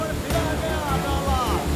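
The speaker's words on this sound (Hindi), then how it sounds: "सैलाब की ये गड़गड़ाहट सुनकर लोग सहम जाएंगे।" Floodwater surges through a city after torrential rain, with water pouring down from above. A loud, continuous rushing roar fills the scene, steady and close.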